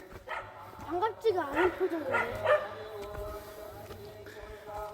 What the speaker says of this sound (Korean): 아 댕댕이가 있습니다. 댕댕이가 우리를 반갑게 맞이해주네요.